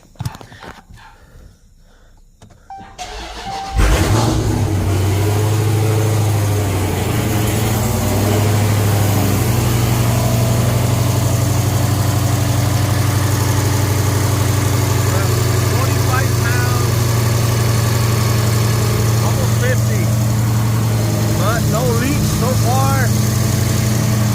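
A Dodge Charger Scat Pack with the 392 V8, after a fuel system installation, fires up after a few quiet seconds and settles into a steady, deep, loud idle that runs unbroken to the end.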